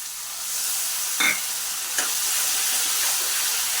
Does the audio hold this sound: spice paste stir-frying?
yes